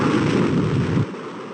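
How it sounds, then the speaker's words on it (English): A deep, rumbling cannon boom sustains for about a second, then cuts off sharply, leaving a thin hiss behind. "I'm doing a cannon explosion, so it'd be quite good to have a bang."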